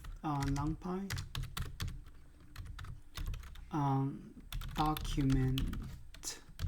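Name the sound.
typing on a computer keyboard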